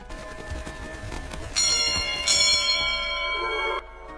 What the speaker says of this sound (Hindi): महल की फ़ज़ा में घंटियां बजीं